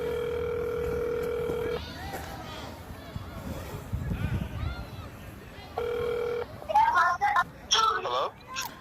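Telephone ringback tone on a call to a notary public, two long steady buzzing rings separated by a pause, with people talking in between and at the end.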